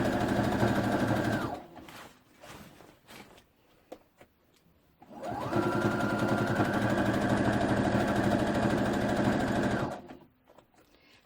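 A sewing machine stitches a skirt hem in two long, steady whirring runs, with a pause of softer clicks and handling noises between them.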